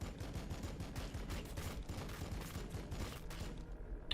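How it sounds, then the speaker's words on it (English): Bolt rifles fire in Warhammer 40,000: Battlesector as a dense, rapid volley of gunfire. The shots rattle in quick bursts throughout at a fairly even loudness, mixed with mechanical clatter, and no one speaks. "we're gonna use the battle line tactics and the bolt rifle. on the Venom tropes"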